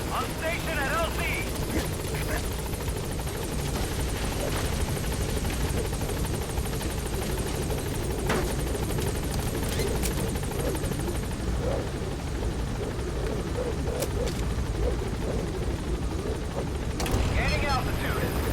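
A helicopter arriving at a landing zone in Metal Gear Solid V gives off a continuous loud rotor thrum and turbine roar, with radio voices talking over it.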